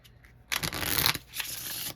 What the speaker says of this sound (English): Hold on, let me shuffle.